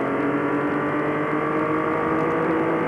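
A Formula Holden race car at Sandown in 1990 drives up the straight toward a hilltop, a steady, sustained engine drone heard at moderate distance.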